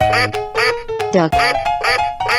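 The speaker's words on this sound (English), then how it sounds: "Duck." A duck quacks repeatedly in a cartoon animal transformation, a quick run of loud nasal quacks mixed with playful music and chirpy vocal sounds.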